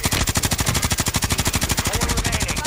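Automatic gunfire in a video game, loud and close, a steady rapid stream of evenly spaced shots hammering on for a few seconds without a break.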